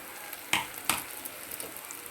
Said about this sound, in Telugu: ఇలా ఎర్రగా వేయించుకోండి ఇప్పుడు అల్లం వెల్లుల్లి పేస్ట్ వేసేద్దాం